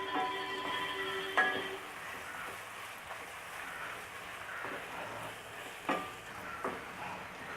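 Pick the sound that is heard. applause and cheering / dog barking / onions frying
onions frying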